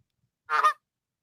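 A single short goose honk sound effect, one sharp nasal squawk lasting about a quarter second, close and clean against total silence.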